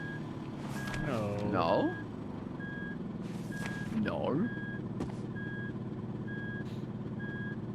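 A truck's reversing alarm beeps steadily at a regular rhythm through the whole stretch in the video game RV There Yet? A low vehicle hum runs beneath it, and a voice speaks a few times over the beeps.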